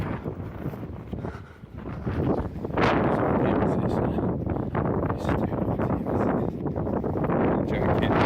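Strong wind blasts across the microphone on the shingle of the Norfolk coast path in horrendous weather, a loud, continuous roar that dips briefly and then grows heavier and steadier.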